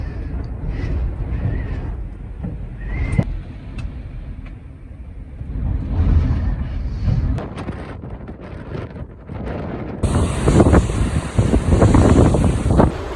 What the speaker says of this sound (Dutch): Het waait keihard.